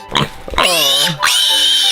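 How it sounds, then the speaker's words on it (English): A pig squeals loudly and close by in a couple of long, high, strained cries after some short grunting sounds, with people's voices mixed in. "Look at the pig, it's so cute."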